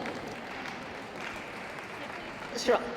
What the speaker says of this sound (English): please do give them some applause